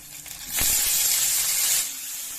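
Tomato, garlic, ginger and Byadagi chili hit a hot pan with a sudden loud hiss of frying that holds steady for a couple of seconds before easing slightly, with no voices.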